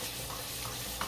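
Garlic ginger paste fries in hot oil in a pan for an aloo baingan sabzi, a dense, continuous close sizzle with stirring scrapes and one brief clink near the end, no voices.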